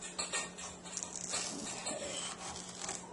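A dog licks and laps at her food bowl in a home kitchen, giving a steady wet patter with small clinks, fairly faint and continuous under a low background hum.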